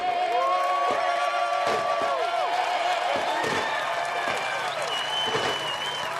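A near-sellout stadium crowd at the Charlotte Roval NASCAR race applauds and cheers loudly and continuously after the national anthem, with whistles and shouts rising through the roar.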